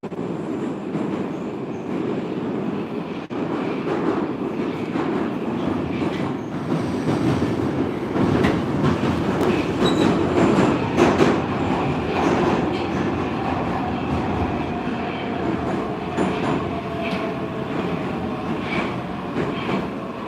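A St Petersburg Metro green line (Line 3) train runs underground with a loud, steady rumble throughout, joined by rail clatter and occasional brief squeals.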